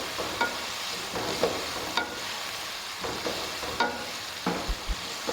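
Goat meat fries in hot oil in a pot while being stirred, a steady sizzle punctuated by repeated scraping strokes of a spoon against the pot.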